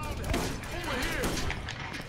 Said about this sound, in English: There's a bunch of midgets with shotguns.